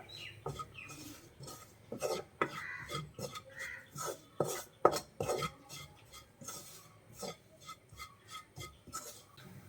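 Spoon stirring and scraping chilli and coriander powder as the spices roast in a pan for restaurant-style chicken masala; sharp metallic scrapes and clinks in an irregular rhythm, close and fairly loud, with no talking.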